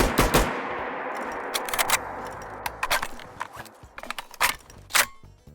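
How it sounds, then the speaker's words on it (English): Reload of an HK G3A3 rifle in a modded Fallout 4: sharp metallic clacks and rattles of magazine and bolt, several distinct close clicks and snaps spread over a few seconds, opening with a loud burst. "And then our beautiful reload animation."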